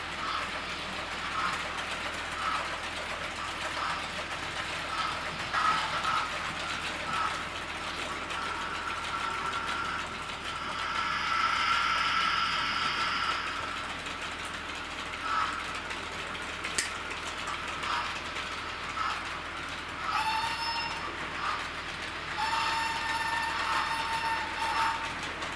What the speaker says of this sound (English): Freightliner, the Class 70, is a Backman model, comes with lights, driver, and is an analog locomotive.